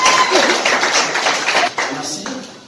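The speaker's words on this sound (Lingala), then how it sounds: "je vous prie d'applaudir s'il vous plaît" An audience claps together in a short burst of applause, dense and fairly loud, tapering slightly toward the end.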